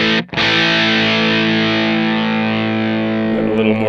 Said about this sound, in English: Let's turn the distortion up there.